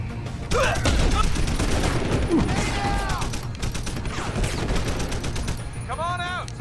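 Suppressing gunfire during a firefight in the video game Deus Ex: Human Revolution, with bursts of rapid shots running steadily throughout amid battle noise, while character voices call out over the combat.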